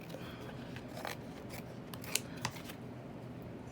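Scissors snip through a paper envelope up close in steady, crisp cuts, with a couple of sharper clicks of the blades near the end, quiet and without speech.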